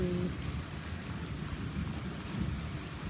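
Rain falling steadily in a Punjab village yard, a dense continuous patter with a low rumbling wash, heard alone throughout.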